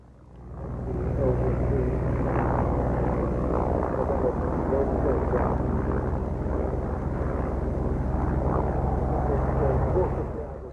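A Sopwith Triplane, a WWI aircraft, drones at a flying display with a steady engine rumble that swells in and holds; a voice speaks over it.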